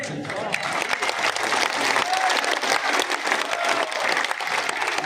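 An audience applauds loudly at a political rally held at a handloom weavers' gathering in Shantipur, Nadia district, West Bengal, with sustained dense clapping and crowd noise while a voice talks over it.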